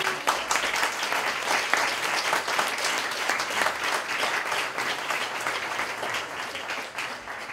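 An audience at a book launch claps steadily for several seconds, a dense, lively applause that holds evenly before tapering off slightly at the end.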